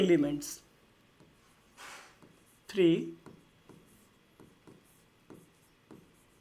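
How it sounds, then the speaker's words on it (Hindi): A teacher writes a point on a board during a chemistry lesson on the law of reciprocal proportion, giving a few short scratchy strokes and taps. Speech can be heard at moments. "उसके लिए पहला पॉइंट लिख देते हैं ना"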